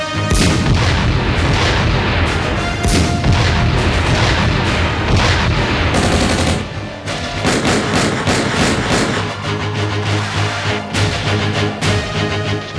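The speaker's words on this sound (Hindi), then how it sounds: "Rocket launcher fire!" Rocket launcher fire and heavy explosions in a war drama, a dense barrage of loud booms and blasts rolling continuously from start to finish with a brief dip midway.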